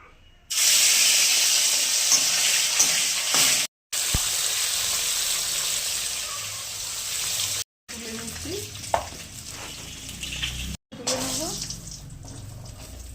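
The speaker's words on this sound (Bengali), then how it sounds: "মাছগুলো ভেজে নেবো" Pieces of catla fish frying in hot oil, giving a loud, continuous, hissing sizzle that fills the clip, broken by a few brief cuts and some faint clatter near the end.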